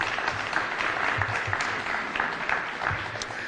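Attendees at a city's State of the City address applaud, a sustained moderate clapping from a hall crowd, fairly even throughout with a faint voice beneath it.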